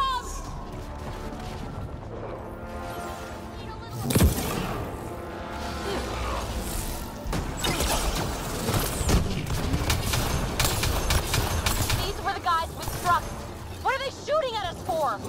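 Enemy gunfire in a Mass Effect Andromeda firefight, bursts of shots and impacts cracking through a busy battle mix, with a loud hit near the middle and characters talking over the combat.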